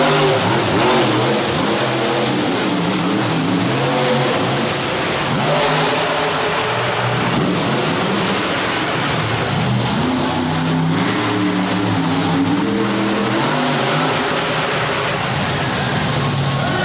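A green and black 2014 Ford Super Duty monster truck revs its engine hard at an arena show, a loud, continuous roar rising and falling in pitch, sustained throughout with crowd noise behind.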